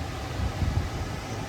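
Car ventilation blowing after an air filter change in a 2011–2015 Hyundai Sonata, a steady, soft rush of fan-driven air with faint low rumble, continuous and close.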